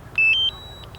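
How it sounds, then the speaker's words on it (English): A few short electronic beeps in quick succession from a DJI Mavic Mini drone controller on return to home, high-pitched and fairly clear over a quiet background. "you can hear it beeping"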